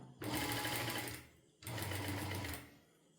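Sewing machine stitching slowly through fabric decorated with beads or stones, two sustained bursts of motor whir separated by a short pause, close and steady.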